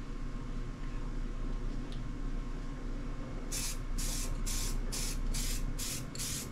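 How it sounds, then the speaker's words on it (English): Quiet room tone, then a series of short bursts from an aerosol spray paint can laying a light first coat, each a sharp hiss in quick succession, close and fairly loud. "I'm going to spray our first"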